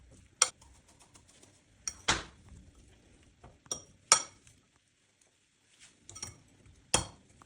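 A spoon clinking against a bowl while salad is stirred with sunflower oil, sharp scattered clinks and scrapes at an irregular pace, close and fairly quiet, with no voices.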